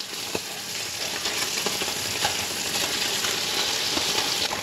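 Crappie fish fillets sear in a hot pan with a steady, loud sizzle and crackle, small pops scattered through the frying, no voices.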